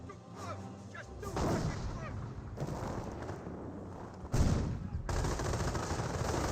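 MG42 machine gun fire in the Company of Heroes video game, heard as dense rapid bursts amid other battlefield gunfire and blasts, loud and continuous with sharp surges and no talking.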